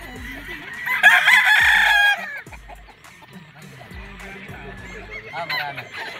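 Gamefowl battle stags on a farm: one rooster crows loudly and close for about a second, followed by lower clucking and fowl calls, with more distant crowing near the end.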